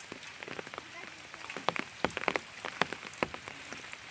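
Rain falling over a village fish pond, a dense patter of drops striking surfaces with scattered sharper splashes, steady and fairly close.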